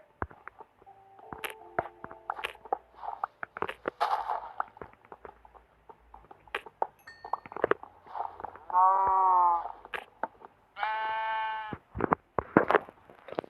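Two distinct Minecraft sheep bleats stand out, each a drawn-out wavering cry, amid steady clicks and soft game sound effects.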